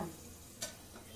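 Field beans fry in well-heated oil, giving a faint, steady sizzling hiss with one brief crackle partway through.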